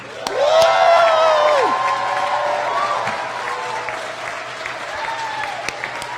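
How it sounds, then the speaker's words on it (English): A crowd at a hospital graduation ceremony applauds with steady, dense clapping that swells early, then gradually thins as a few voices come through. "Let's have one more massive applause for our graduates."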